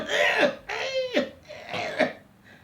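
A voice imitates a child's suffocating cough: three or four harsh, strained hacking bursts in quick succession, close and loud, each ending in a choked, gasping catch.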